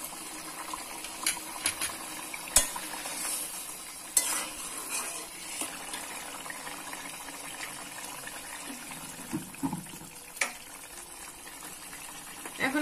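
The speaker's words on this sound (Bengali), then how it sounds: "ঝোলটা ঘন হয়ে আসা পর্যন্ত আমি এটাকে মিডিয়াম ফ্লেমে জ্বাল দিয়ে দেব" Lentil-and-egg curry gravy cooks over a medium flame, a soft bubbling simmer broken by scattered clinks and scrapes of a spoon stirring the pot, quiet and close with no talking.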